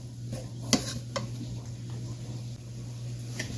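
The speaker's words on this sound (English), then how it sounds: "we're going to get all these nice, beautiful veg cooked up until it is translucent" Cajun trinity vegetables cooking in a pan: a spoon or spatula scrapes and clicks against the pan in a few brief knocks, over a quiet sizzle and a low steady hum.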